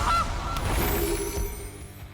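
Goose honk from a Gilded Goose card in the MTG Arena video game, one short nasal honk at the start followed by a game sound effect and low rumbling tones.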